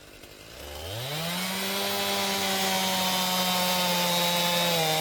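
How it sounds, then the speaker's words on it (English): A chainsaw cutting up a fallen tree revs up from idle to a steady, loud, high-pitched whine that holds close to the microphone without a break. "Boy, that chainsaw cuts a lot faster than mine did."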